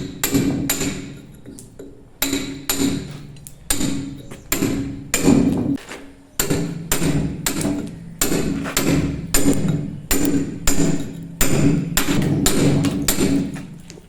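A hammer strikes a pointer chisel while carving stone: a long run of sharp, ringing metallic blows in quick, steady bursts, close and loud, with short pauses between groups of strikes.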